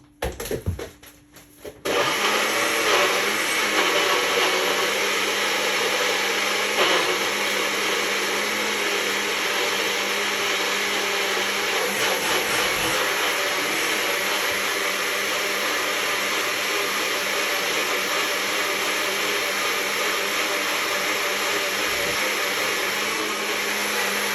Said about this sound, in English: I'm going to run my blender on this right here